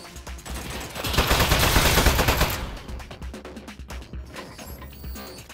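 Turret gunfire from the video game Portal: a dense burst of rapid automatic shots, loud and close, followed by scattered fainter shots and clatter as it tails off.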